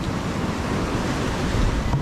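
Waves and a strong current run near where people are bathing by the river or sea, heard as a loud, steady wash of surf and rushing water with wind buffeting the microphone.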